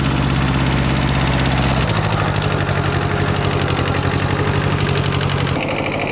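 A tractor engine runs steadily and loud at close range on a hillside farm, a continuous rumbling drone with a shift in pitch partway through and another near the end, with no voices.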